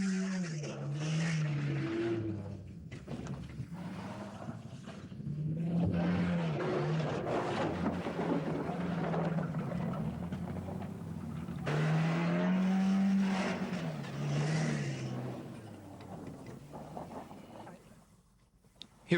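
Four-wheel-drive jeeps tackle steep clay banks at a popular off-road clay pit during a 1984 club event. Engines rev and strain in long rising and falling surges, moderately distant and continuous.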